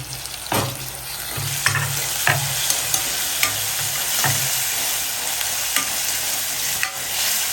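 Tomatoes frying in a pan for a dried shrimp (ambar) curry, a steady close sizzle with repeated scraping stir strokes, no talk.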